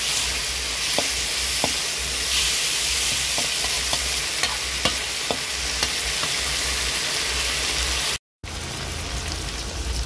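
Surf clams stir-fried in a pan with coconut milk: a steady, loud sizzle with scattered taps and scrapes of the spatula, broken by a brief dropout near the end.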